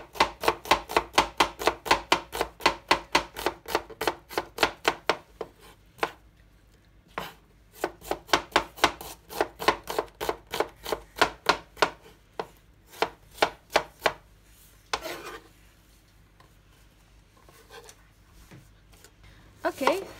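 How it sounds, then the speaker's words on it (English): A knife slices an onion into thin slices on a board with fast, evenly spaced, crisp taps in several bursts, separated by short pauses and a few scattered strokes. "the onion, I'm going to make it slices, thin slices, like so"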